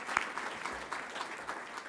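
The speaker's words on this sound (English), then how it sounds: "So I want to give a round of applause to the CSA." A conference audience applauds in a hall during a gathering on the Canadian space sector, producing steady, moderately loud clapping from many hands that continues throughout.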